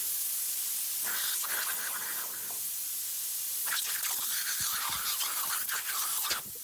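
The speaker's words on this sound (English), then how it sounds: "These guys instantly inflate their tractor tire by using an aerosol spray and some fire." An aerosol spray is lit to inflate a tractor tire, giving a loud hissing rush that comes in two long bursts separated by a quieter gap, ending abruptly.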